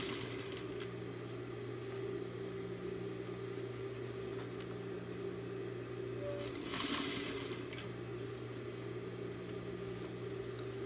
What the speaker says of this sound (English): pull my cylinder out and keep sewing along